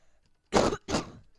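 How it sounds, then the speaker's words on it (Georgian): Two short, close coughs in quick succession, each a harsh burst, with near silence before and after. "ცოტა ახველებს"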